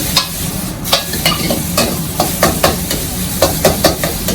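Pad thai noodles sizzle and hiss steadily in a hot wok at a street food stall, with repeated scraping strokes of a spatula clanking against the pan in an irregular rhythm.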